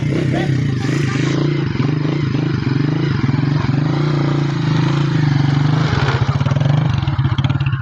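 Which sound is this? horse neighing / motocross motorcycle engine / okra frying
motocross motorcycle engine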